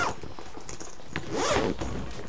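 A zipper on a rofmia Daypack V2 backpack is pulled open, a stiff water-resistant zip rasping in two short close strokes, the second longer and louder, with no voices.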